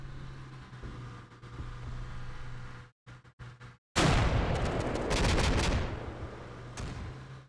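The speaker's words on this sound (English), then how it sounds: "That seems like fire from BTR, to be perfectly honest." Gunfire from a BTR armoured vehicle in the Combat Mission: Black Sea war game: steady heavy firing and rumble, a brief choppy gap, then a loud dense burst of rapid shots with cracking transients.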